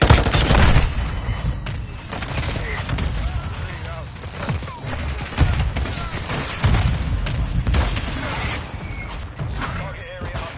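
Dense battlefield din from Call of Duty: Modern Warfare II during a Semtex grenade throw, with loud booming blasts and continuous overlapping gunfire, close and heavy throughout, radio-style voices heard underneath.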